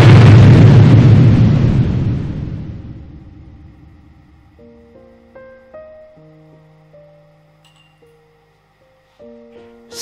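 A heavy explosion from cannon and bomb fire in a wartime radio play booms loud and close, then rumbles away over a few seconds, leaving a quiet stretch with faint sustained tones.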